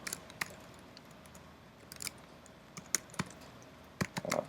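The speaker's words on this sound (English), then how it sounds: "Are you guys losing your minds listening to me and typing this poorly?" Slow, uneven typing on a computer keyboard while writing Ruby code, with sparse clicks under a faint background hiss.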